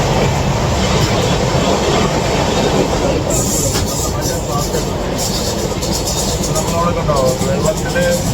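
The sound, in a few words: passenger train running to Mumbai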